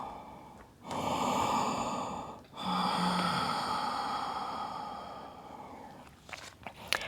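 Two long, slow exhalations during a yoga flow, each a soft breathy rush lasting over a second, close to the mic with a short pause between them.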